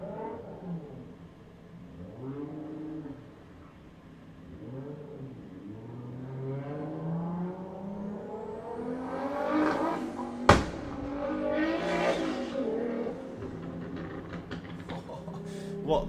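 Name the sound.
loud car revving outside, maybe a Subaru doing donuts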